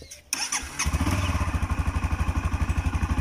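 An Italika Twister 250 motorcycle, freshly fitted with a new fuel filter, cranks briefly, fires and settles into a steady, close idle with a quick, even pulsing beat, with no talk.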